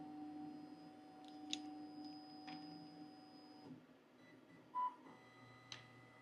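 A Thunder Laser Bolt laser engraver hums quietly with a faint steady tone, then a few soft ticks and whirs as it autofocuses, with a short electronic beep near the end, all faint and close by.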